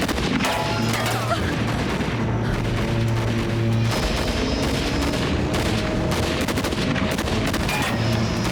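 Loud, dense gunfire in an action film as shooters fire at an airplane to stop its takeoff, with rapid overlapping shots and heavy booms over a constant engine roar.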